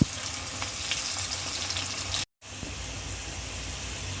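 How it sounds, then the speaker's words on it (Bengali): Chopped onion frying in plenty of hot oil while cooking spiced goat trotters, a loud, steady sizzle running throughout with a brief cut of silence midway. "এখন আমি পেঁয়াজ কুচি দিব, পায়াটা বাগার দিয়ে দিব, সেজন্য পেঁয়াজটা আমি হালকা ব্রাউন কালার করে নিব।"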